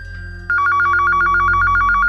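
A landline telephone rings with a steady repeating electronic trill that starts abruptly and continues loud and close, with no voices over it.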